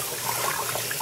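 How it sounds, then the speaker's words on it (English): Tap water runs steadily into dishes in a kitchen sink, a brief, soft, even splashing stream. "And I'll just let water run in that while I'm washing my other dishes"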